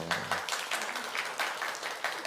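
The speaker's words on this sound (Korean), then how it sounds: "박수 한번 쳐주세요" Hanul Church congregation applauding during a sermon, a steady wash of many hands clapping at moderate, somewhat distant level, with a brief low hum at the start.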